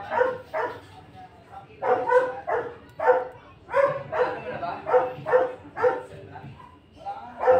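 A neighbour's dog barks repeatedly nearby in a home kitchen, sharp yapping bursts in uneven clusters with brief whimpers between, loud and clear with a quiet background.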